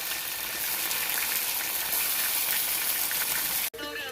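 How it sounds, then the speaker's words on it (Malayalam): Steady, loud sizzling of ginger and garlic paste frying in a pan, a continuous hiss that fills the clip alone and breaks off abruptly near the end. "ഇഞ്ചി പേസ്റ്റും വെളുത്തുള്ളി പേസ്റ്റൊക്കെ നന്നായിട്ട് മൂത്ത് വന്നിട്ടുണ്ട്."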